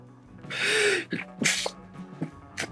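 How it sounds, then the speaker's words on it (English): Someone draws a long gasping breath, then lets out a loud, close sneeze, followed by a few short sniffs and breaths. "I gotta sneeze."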